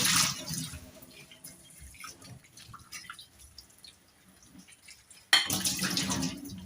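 Arrowroots and potatoes being washed in water, with splashing and trickling water sounds, a soft middle stretch, then a louder burst of sloshing near the end.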